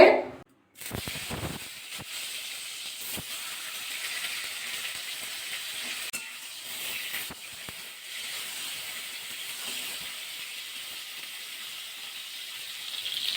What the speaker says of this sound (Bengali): তেলটা গরম হয়ে গেছে এবার পটলগুলো ছেড়ে দেবো কড়ার মধ্যে